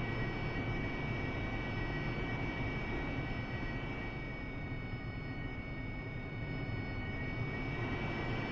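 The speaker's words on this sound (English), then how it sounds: "it looks like our guys, two F-18s maybe coming in" F-18 jets from DCS World flying in, a steady broad engine roar with a whining high tone holding at an even level throughout, no voices.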